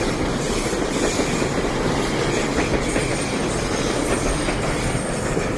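Two GO trains, one likely on the Lakeshore West line and one on the Kitchener line, rumble past together beneath the Gardiner, with loud continuous rolling, clickety-clack of wheels and faint squealing, no voices.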